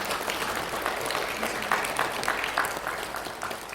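Steady applause from a church congregation, many hands clapping continuously at an even, moderately loud level without a break.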